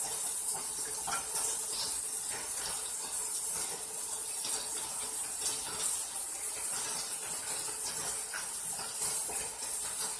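Water added to a hot pan of cooking chicken makes a steady, close, loud hissing wash throughout, with faint scattered clinks and no talking.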